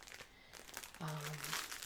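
A plastic grocery bag holding new dish sponges crinkles and rustles in close, quiet handling, with a brief low voice hum partway through.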